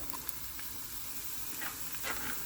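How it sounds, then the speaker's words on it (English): Sweet pepper sautéing in a pan with softened onions for turkey meatballs gives a soft, steady sizzle and hiss throughout, quiet and close, with no talking. "I'm going to add the sweet pepper"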